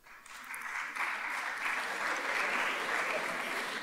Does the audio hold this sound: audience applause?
yes